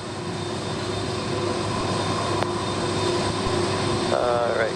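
A Lockheed C-5 Super Galaxy at RAF Waddington lets out a loud, continuous jet roar with a steady whine as it starts its takeoff, and a faint radio voice comes in near the end.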